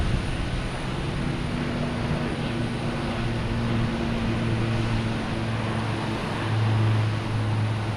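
A Boutique Air airplane at Boston Logan Airport produces a steady, broad engine rumble with a low drone that swells slightly toward the end, heard from a distance with no talking.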